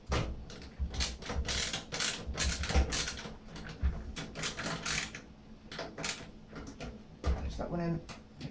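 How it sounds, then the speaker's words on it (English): A screwdriver drives a screw into a gaming PC build, giving a series of close, quiet ratcheting clicks and scraping bursts in an irregular rhythm, with brief faint sounds from handling the parts. "then screw it in the rest of the way with the screwdriver"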